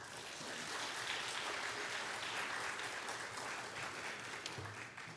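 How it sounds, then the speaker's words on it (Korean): A church congregation applauds to welcome a missionary to the pulpit during a Wednesday service, with a warm, continuous wash of clapping that holds steady for several seconds before tapering off. "여러분 큰 박수로 환영해 주시기 바랍니다"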